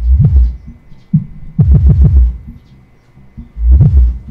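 Deep, booming bass thumps pulse through a subwoofer driven by a sub amplifier via crossover, in irregular bursts, heavy and throbbing with little else above them.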